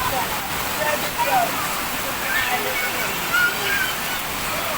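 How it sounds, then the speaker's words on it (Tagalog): Heavy rain pours onto a street with children and adults outside, giving a steady hiss of falling water with faint voices in the background. "I-enjoy nila yung ulan."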